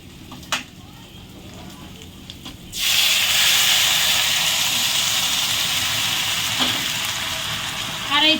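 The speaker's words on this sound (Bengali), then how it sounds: "আমার সবজিটা ভাজা হয়ে গেছে" Chopped taro-root vegetables fry in a pan. After a few quiet seconds with light clinks, a loud, steady, close sizzle bursts in and continues to the end.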